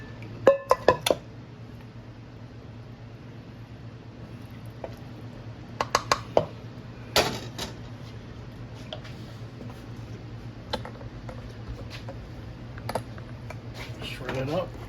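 Cooked, tender beef lifted out and dropped into a pot: short clusters of clinks and knocks from utensils and metal cookware, close but light, with a low steady hum beneath and someone talking between them.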